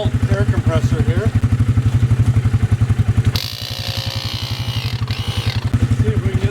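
A small 12-volt air compressor runs close by with a rapid, steady pulsing chug while a tractor tire is inflated, and a voice talks over it briefly.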